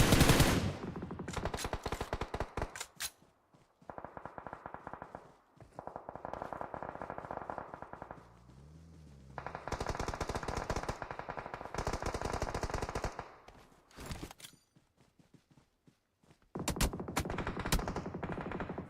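PUBG Mobile gunfire in a battle-royale esports finals match: bursts of rapid automatic fire, loud and close, broken by short pauses and a few single shots.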